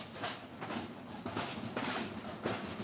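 A train passes along the rails in rural farming country, giving a steady rumble with rhythmic clickety-clack beats from the wheels, moderately close and continuous with no talking.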